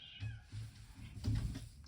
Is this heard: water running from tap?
no